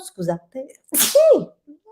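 One sharp, loud sneeze bursts out close to the microphone, with someone speaking briefly just before and after it.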